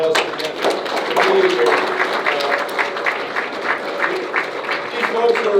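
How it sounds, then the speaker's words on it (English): Audience applause at a Harford County evening gathering for visiting officials, a steady wash of clapping with some distinct near claps and a voice briefly audible beneath it. "I really want to give them a round of applause."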